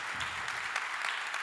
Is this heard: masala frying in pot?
no